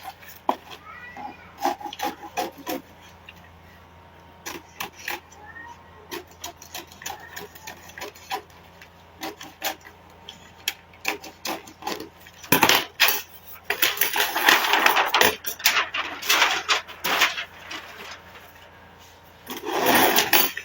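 Scissors snip a paper collar pattern for a child's Ankara ball dress with a Peter Pan collar: scattered close clicks and rustles, then a denser burst of cutting and paper crinkling near the end, with no talk.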